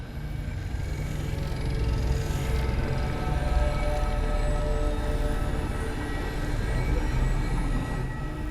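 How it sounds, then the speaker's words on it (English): A primitive train in the Destiny 2 video game rolls past as a loud, continuous low rumble with metallic hum and grinding, swelling slightly in the middle, with no speech. "I've seen primitive trains like this in old ruins."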